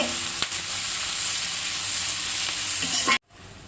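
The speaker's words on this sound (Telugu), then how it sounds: "అన్నీ బాగా దోరగా వేయించుకోవాలి ఫస్ట్ అయితే" Green chilies and other chutney ingredients frying until golden give a loud, dense, continuous sizzle close up that cuts off abruptly near the end, with no talking.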